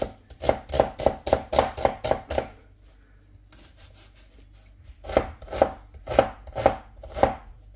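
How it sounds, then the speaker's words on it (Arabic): A knife chops a large onion on a board in quick, even strokes: a run of about eight crisp chops, a short pause, then another five spaced chops, close and clear with no talk. "المهم نفرم بصله كبيره محترمه"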